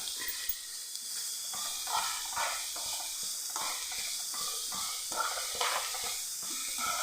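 Onions sautéing with salt in a pan over a raised flame make a continuous hissing sizzle, broken by regular scraping stir strokes, heard close and without voices.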